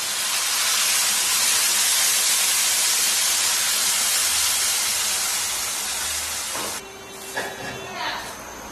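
Warm water poured into stir-fried chicken in a hot wok gives a loud, steady steaming hiss that fills most of the clip, then drops suddenly near the end to quieter, uneven sizzling.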